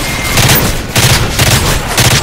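A stun grenade going off in MW3, heard as a loud, close, dense crackle of rapid bangs pulsing in several bursts, with no talking.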